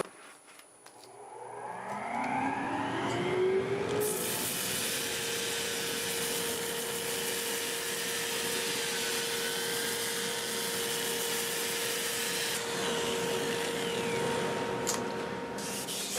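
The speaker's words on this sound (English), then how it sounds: "I'm going to get my dust collector going and get my mass down" During wood turning on walnut, a dust collector spins up over the first few seconds with a rising whine, then runs as a loud, steady roar with a constant tone and no talk.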